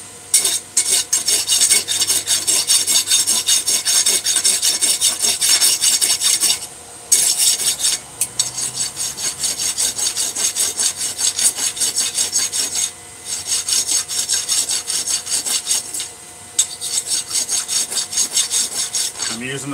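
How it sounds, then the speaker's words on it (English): The fine side of a rasp is drawn across a hammer-marked workpiece in long, steady, close-up strokes. A continuous gritty scraping runs for nearly twenty seconds, broken by a few brief pauses between passes. "I'm using the fine side of the rasp"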